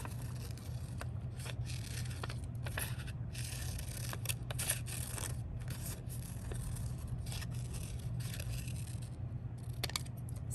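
Paper being cut with scissors along a drawn line, a run of soft, repeated snipping and rustling strokes, close and fairly quiet over a low steady hum.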